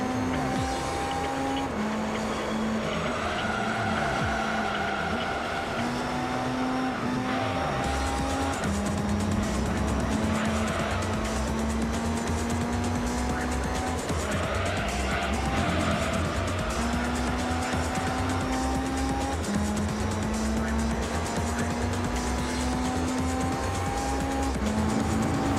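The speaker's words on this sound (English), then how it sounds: "we know what the cars and like the tires sound like at this point" Race cars in Gran Turismo 3 drone with steady engine whine that shifts pitch through gear changes, loud and continuous, with tires squealing and skidding through corners.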